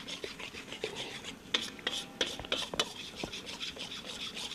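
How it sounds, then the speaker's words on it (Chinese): Flour is stir-fried in oil in a pan while a spatula scrapes and rubs steadily against the metal. The scraping is soft and close, and there is quiet background noise. "那么把它好好的炒炒香"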